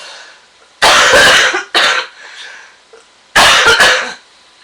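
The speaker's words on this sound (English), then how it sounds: "I'm going to cough." Two bursts of harsh, congested coughing from someone with a cold, loud and close, the first a cluster of several hacks and the second a shorter pair, separated by quiet breathing.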